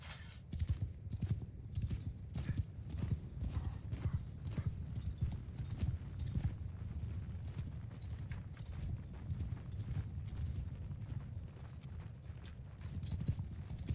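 Horses gallop in a steady drumming clatter of hooves that runs throughout, with a faint whinny and distant voices mixed in, in the video game Mount & Blade.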